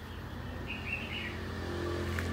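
Caged red-whiskered bulbuls, songbirds kept at a birdcage maker's home in Cao Bằng, give a few short chirps over a steady low hum of background engine noise.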